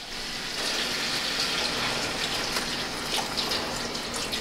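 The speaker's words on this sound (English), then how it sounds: "put a little bit of chicken stock in it" Chicken stock being poured into a hot pot of braising beef short ribs on a stovetop, a steady rushing, gushing liquid pour that stays even throughout at moderate level, with no talking.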